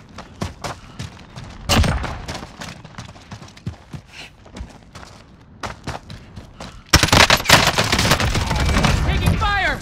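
Gunfire in a Call of Duty Warzone battle: scattered sharp single shots and short bursts at first, then a sustained heavy barrage of rapid automatic fire erupts close and loud for the last few seconds.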